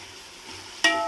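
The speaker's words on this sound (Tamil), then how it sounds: "இந்த டைமில் நான் பச்சை மிளகாய் போட்டுக்கிறேன்." Green chillies drop into a pan of softened tomatoes, cutting through a faint background hiss with one sudden, brief sizzling burst near the end.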